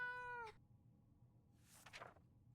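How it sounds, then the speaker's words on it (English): An angry house cat in the video game 60 Seconds gives one loud, drawn-out meow, followed by quiet and then a brief, harsh rustling burst. "There's a cat!"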